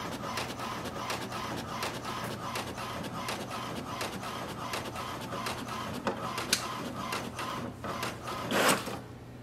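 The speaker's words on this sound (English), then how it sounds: "That is the printing" An HP DeskJet 2827e inkjet printer runs a print job up close, its steady mechanical whir broken by rapid rhythmic clicks and carriage shuttling, with a sharper whoosh of paper feeding near the end.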